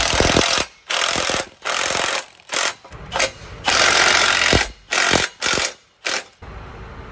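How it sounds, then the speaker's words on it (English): An impact wrench or power ratchet tightening two 13mm exhaust clamp bolts, heard as a series of loud, close mechanical rattling bursts separated by short pauses. "we're going to go ahead and tighten up these two 13mm bolts."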